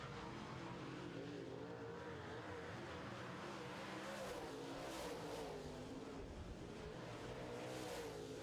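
Late model race cars roar around a short oval track during a heat race, a continuous distant engine drone with rising and falling revs as the pack passes, steady and unbroken.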